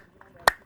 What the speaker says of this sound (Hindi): अभी हम ताली बजाएंगे